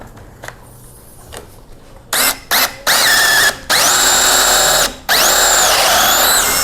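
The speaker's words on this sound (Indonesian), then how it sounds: "langsung aja kita lakukan proses pengeborannya" A Doliz BD637 20V cordless brushless drill bores into a board, starting with a few quiet clicks, then short whirring bursts before long, loud, high-pitched sustained runs interrupted by a brief pause.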